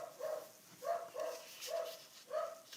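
A dog barks repeatedly at a passerby outside, five distinct moderately loud barks in a steady rhythm, heard alone without talking.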